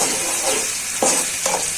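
Garlic fries for radish greens in a pan with a loud, close sizzle, and a few sharp surges of frying noise where the pan is stirred or the garlic is turned.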